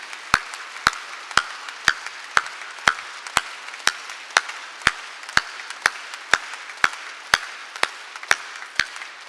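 Congregation at a Korean church worship service clapping hands in a slow, even beat, sharp claps spaced about half a second apart, fairly clear against a quiet room.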